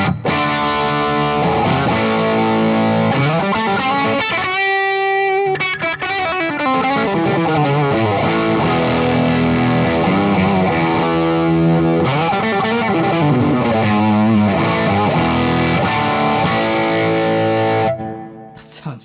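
Electric guitar played through a Boss Blues Driver overdrive pedal, a loud, continuous run of driven chords and riffs that drops out for a brief gap near five seconds and stops shortly before the end, with no talking.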